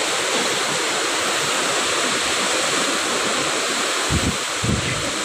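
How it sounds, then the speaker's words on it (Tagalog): Strong typhoon wind and heavy rain from Typhoon Uwan roar in a dense, constant wash of noise close around, with a few low gusty thumps near the end and no talk. "Lakas ng hangin. Hangin at ulan."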